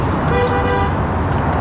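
A loud, sustained car horn blares over steady traffic noise, close by and continuous.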